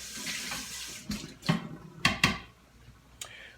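A measuring cup rinsed under a running kitchen tap, with a soft steady water hiss and a few louder splashes and clunks as the cup is handled close by.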